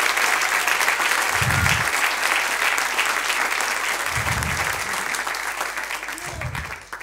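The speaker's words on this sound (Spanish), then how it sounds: "Denle un aplauso a él entonces." A church congregation applauds steadily and loudly for several seconds, a dense wash of clapping from the gathered crowd that slowly tapers near the end.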